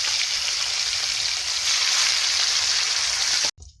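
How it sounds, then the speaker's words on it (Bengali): Chang and lata fish frying in hot oil in a village kitchen wok, a loud, steady sizzle that holds evenly for several seconds, then cuts off abruptly. "তেল গরম হয়ে গেছে, এবার মাছগুলো ছাড়ছে।"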